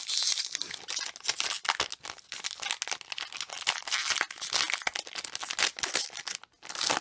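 Fake Pokemon card packs are torn open and handled, giving close, continuous crinkling and crumpling of foil wrappers with sharp tearing bursts throughout.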